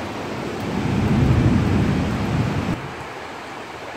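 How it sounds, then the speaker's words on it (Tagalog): Heavy rain pours down in a dense, roaring wash with a deep rumble swelling in the first half, then eases slightly to a steadier hiss; no voices. "Grabe, sobrang lakas ng ulan."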